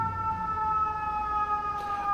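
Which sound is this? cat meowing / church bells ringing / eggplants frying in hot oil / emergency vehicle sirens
emergency vehicle sirens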